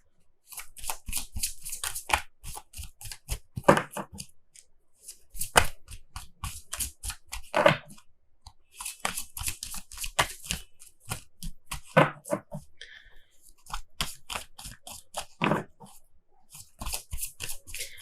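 Tarot cards being shuffled and drawn by hand, giving repeated close, crisp riffling and flicking bursts in uneven clusters with brief pauses, no voices.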